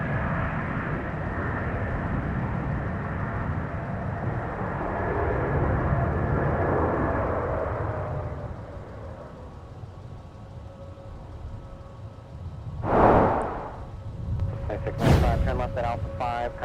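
Airliner taking off from runway 17 at Minneapolis-St Paul airport, a steady broad jet roar that swells then fades into the distance, followed by a couple of sharp bursts and a radio voice near the end.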